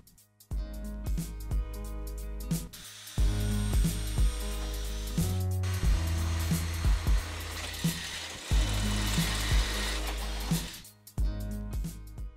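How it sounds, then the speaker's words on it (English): Power drill boring a 1/8 inch pilot hole in a golf cart while fitting a Mad Jax rear seat golf bag attachment, a loud whirring run with several start-stop bursts, heard close. "Now I'm gonna drill it with a pilot hole of 1/8 inch"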